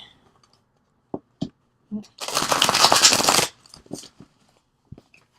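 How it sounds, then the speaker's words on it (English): Tarot cards are riffle-shuffled up close in one long buzzing flutter, framed by soft taps and handling clicks before and after. "I'm going to do a couple just good shuffles this way"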